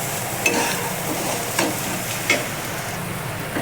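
Egg bhurji being stirred and fried in a pan: continuous close sizzle broken by three sharp spatula scrapes and clinks against the pan, with no talking.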